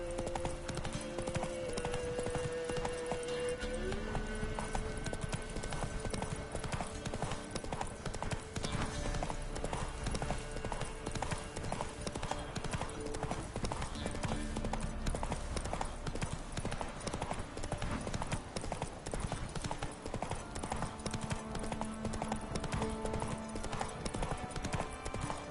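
Roach, a horse in The Witcher video game, gallops with a fast, unbroken clip-clop of hooves that lasts throughout, mixed with steady game music and ambience.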